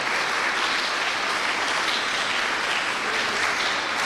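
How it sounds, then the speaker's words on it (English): Loud, sustained applause from a crowd at a leadership summit in Koforidua, Ghana, a dense wash of hand claps holding at a steady level from start to finish with no speech on top. "with a thunderous applause, let's put our hands together for the operations manager for AFRO, Margaret"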